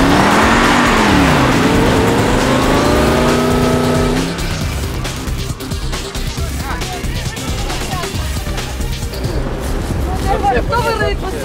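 An off-road SUV revs its engine hard to climb out of a pit. The engine note rises and falls loudly for several seconds, then gives way to rougher rumbling and tire noise while people talk.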